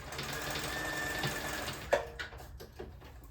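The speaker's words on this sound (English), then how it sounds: "do a quick test stitch on my swatch of fabric that I leave in my sewing machine" A home sewing machine runs a quick test stitch on a fabric swatch, a steady close mechanical whirr for about two seconds followed by a few clicks and knocks.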